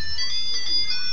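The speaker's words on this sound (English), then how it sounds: "it plays Mario Brothers songs when you turn it on." An Arduino-programmed fun machine with green start and red stop buttons plays a Mario Brothers tune, bright electronic beeping notes, loud and close, heard on their own.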